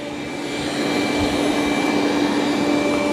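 Dreame D10 Plus Gen 2 robot vacuum running at maximum suction on carpet, a loud steady whooshing roar with a thin high whine that ramps up within the first second and then holds constant.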